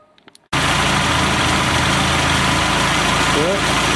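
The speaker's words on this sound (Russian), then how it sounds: "Так, двигатель поставили, завели. Все работает." A small homemade tractor engine starts abruptly and runs at a loud, steady idle, with a rhythmic low chug throughout and a brief voice-like tone near the end.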